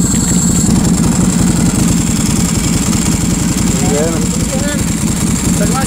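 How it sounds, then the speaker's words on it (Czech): A Ducati Hypermotard 1100 motorcycle idles close by with a steady, loud, rapid engine pulse throughout, while people talk over it. "No to je motorka teda"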